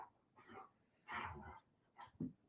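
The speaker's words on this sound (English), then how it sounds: "stop barking already" A dog barks and yips in a short, uneven series of sharp, fairly faint barks, heard indoors without talk.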